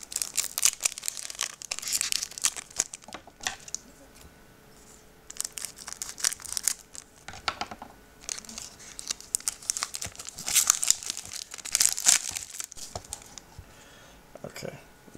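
A Crystal Guardians Pokémon card blister pack being torn and opened: repeated close crinkling of plastic and foil in bursts, with short pauses between and a voice talking at times.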